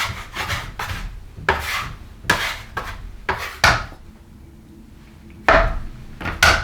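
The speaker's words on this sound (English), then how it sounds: "This is called a bench scraper." A bench scraper works aniseed biscotti dough on a floured wooden surface, giving about eight close, scratchy scraping strokes in an uneven rhythm with short pauses and no talking.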